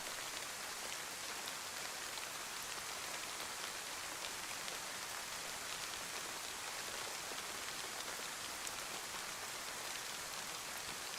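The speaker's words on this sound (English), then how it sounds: "The rain sounds are phenomenal." Steady rain patters across a surface in the survival video game DayZ. The downpour is even and constant, a soft, dense hiss that never lets up and has no voices over it.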